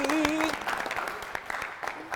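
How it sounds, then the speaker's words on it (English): Studio audience on a quiz show claps in a quick burst of applause, moderately loud with a few sharp individual claps standing out near the start, fading slightly as it goes on. "Give them a round of applause."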